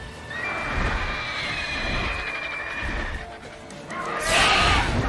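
A horse whinnies loudly near the end of a Witcher 3: Wild Hunt game clip, following a stretch of sustained game-like tones and background noise.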